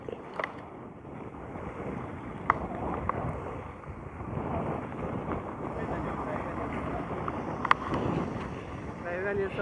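Strong wind buffets a microphone on a hilltop road on the route to the Uma Maheswara temple near Srisailam, a continuous rumbling gusty roar with a few sharp bumps, and a voice briefly heard over it.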